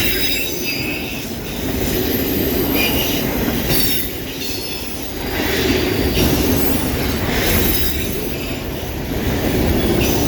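A CSX autorack freight train rolls past on the Old Main Line at Newport, a loud continuous rumble of railcars with wheel squeal and rhythmic clatter swelling and easing as the cars go by, no voices.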